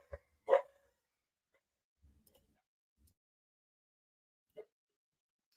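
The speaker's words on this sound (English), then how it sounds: "Sorry about the barks in the back there." A dog barks in the background of a home setting, two short separated barks with a faint one later, otherwise near silence between them.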